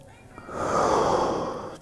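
A single slow, deep breath during a floor stretching exercise, a soft inhale building into a long, breathy exhale, close and fairly quiet, with no talking.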